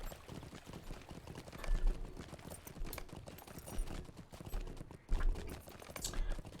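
A player's horse trotting in Lord of the Rings Online, steady rhythmic hoofbeats with a few heavier thumps, fairly quiet and continuous, no talk.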